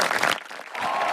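Short burst of crowd applause and cheering added as a sound effect after a podcast intro, loud and clapping densely for about a second.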